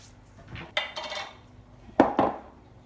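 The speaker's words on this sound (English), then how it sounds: "I'm going to grab a rolling pin and a board" A rolling pin and a board are picked up and set down in a kitchen, giving a few close knocks and clattering bumps in two short bursts.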